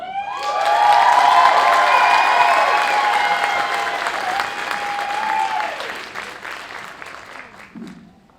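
A children's music performance audience bursts into loud applause and cheering, with sustained shouting and a high whistle-like cheer over the clapping, swelling early and then tapering off toward the end.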